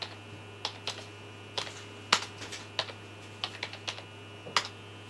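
Commands are typed into a terminal on a computer keyboard, with a dozen or so quiet, irregular key clicks and taps over a low electrical hum, close and with no voices.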